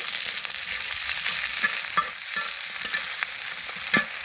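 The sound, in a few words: frying in mustard oil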